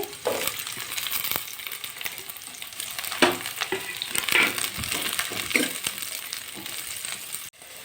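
Chopped capsicum and carrot stir-fry in a pan for homemade noodles, a close steady sizzle punctuated by repeated spatula scrapes and taps, ending with a sharp clack.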